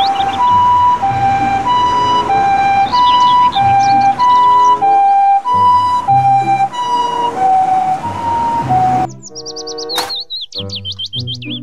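A loud two-tone ambulance siren wails steadily, then stops and gives way to high chirping whistles and bird-like tweets near the end.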